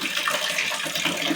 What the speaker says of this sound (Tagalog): Ayan na, may tubig na.